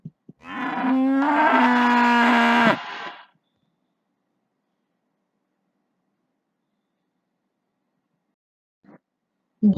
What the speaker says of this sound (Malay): Bunyi lembu mu